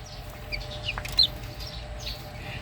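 Young chicks clucking and peeping softly at a poultry brooding setup, scattered faint calls over a steady low background hum, with one brief sharper chirp near the middle.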